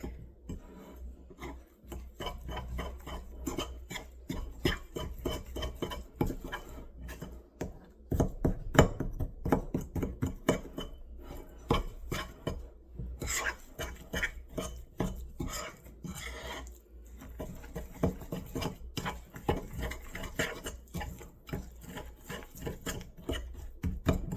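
Brown sugar and cinnamon being stirred in a bowl with a utensil, giving quiet, continuous scraping and clinking strokes in an uneven rhythm, close and fairly soft, with no talking.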